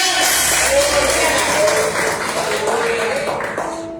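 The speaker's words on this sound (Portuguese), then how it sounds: "Você pode aplaudir a Ele e declarar que Ele é o Senhor da sua vida." A church congregation claps along under a loud, continuous voice, producing a dense, steady layer of applause throughout.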